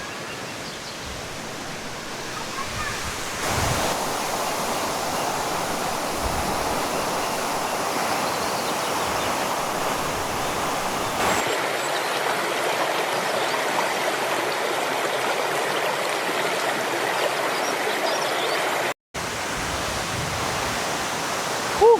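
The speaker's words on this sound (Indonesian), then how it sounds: "Curugnya sangat megah dan indah. Curug Bidadari." Curug Bidadari waterfall in Sentul, West Java, roars as a steady, loud broadband rush that holds for over twenty seconds, with only a momentary dropout and no voices.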